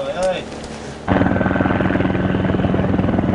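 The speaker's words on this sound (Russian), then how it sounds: "Вертушки за ранеными идут." Military helicopters flying in to evacuate wounded at an Iraqi checkpoint: after a second of voices, a loud, close rotor thump and engine whine start abruptly and continue steadily.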